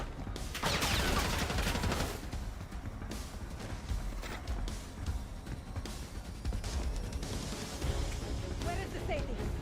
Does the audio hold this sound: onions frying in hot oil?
no